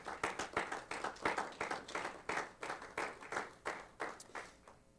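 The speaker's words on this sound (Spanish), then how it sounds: "¿Cuántos damos un aplauso, hermanos?" A church congregation claps together in quick, even rhythmic bursts that swell and ease over a few seconds, fairly close and with no voices over it.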